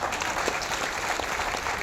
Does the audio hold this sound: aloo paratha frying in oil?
no